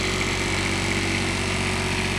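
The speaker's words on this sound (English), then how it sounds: "7500 Onan diesel generator is running" An Onan 7500 diesel generator with a Kubota engine, aboard a 2003 National Tradewind LE 374 diesel pusher RV, runs in a loud, even, unbroken drone with a steady hum throughout.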